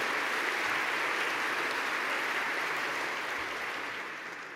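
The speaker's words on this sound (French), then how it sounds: "Henry, Rania Adjar et Marie-Pauline Gacouin, que je vous demanderai également d'applaudir" Steady applause from an audience at a launch ceremony for 2015 Year of Light in France, sustained and fairly loud, gradually tapering off toward the end.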